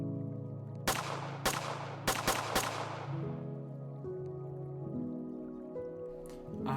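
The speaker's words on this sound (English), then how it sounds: "To finish up the gun, I added the nice gunshot noise to give some feedback to the player." Gunshot sound effects from a PyWeek game jam video game: five sharp blasts in quick succession, each decaying fast, over a steady synth music background.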